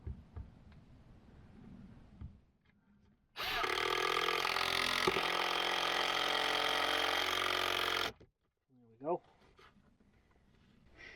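A power drill drives screws into a wooden closet base inside a camper van, one loud continuous whirring burst of several seconds, with quieter handling noises and a voice before and after.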